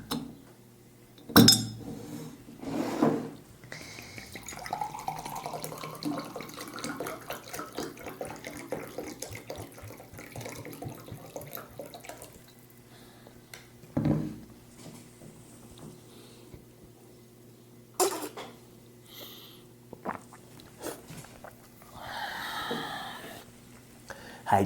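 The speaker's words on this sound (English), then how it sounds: "Let me just drink some water first." Water runs and splashes with clinks of a glass or cup, followed by intermittent small sips and handling sounds, close and fairly quiet with pauses between.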